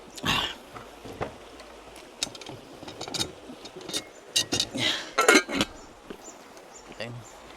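A metal cooking pot is handled outdoors in a rainforest, with scattered clanks, knocks and clinks of metal on metal at irregular intervals, mixed with some rustling and faint voices.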